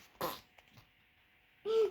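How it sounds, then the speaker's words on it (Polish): Two short, close bursts, the first brief and the second longer and buzzier, match a fart, separated by near silence with no talking. "czemu piernąłeś?"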